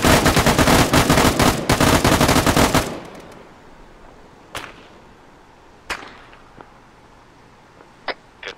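Suppressive gunfire: a loud, rapid machine-gun burst hammers for about three seconds, then a handful of single sharp shots crack out at intervals against a quiet background.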